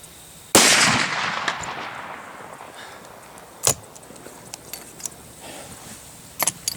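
A single loud, sharp blast from a braked .500 Magnum at an outdoor range, followed by a decaying echo and several fainter clicks and knocks afterward.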